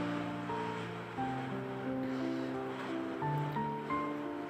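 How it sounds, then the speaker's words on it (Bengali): Bay leaves and whole white cumin seeds sizzle in hot mustard oil in a wok, a steady, fairly loud hiss running the whole time under soft background music, with no talking. "কড়াইতে আমি তেজপাতা, গোটা জিরে, মানে যেটা সাদা জিরে, সেটা অ্যাড করছি"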